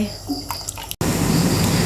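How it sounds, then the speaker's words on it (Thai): Water bubbling and rumbling in a pot as it begins to boil, a dense steady hiss after a short moment of quieter kitchen sounds. "น้ำเริ่มเดือดจ้ะพี่น้อง"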